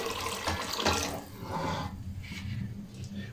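Water pours steadily into a pot of rice being cooked with white vinegar, a running, splashing stream heard close and alone, easing slightly toward the end.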